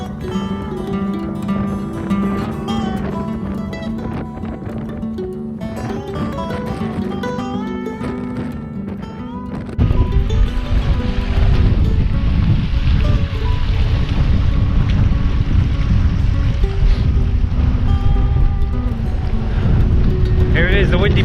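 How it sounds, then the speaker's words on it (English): Strong wind buffets the microphone on Dartmoor's high moor, a rough roar that grows heavier and steadier halfway through, while tuneful music plays on top the whole time. "It wouldn't be Dartmoor without a bit of wind, I guess."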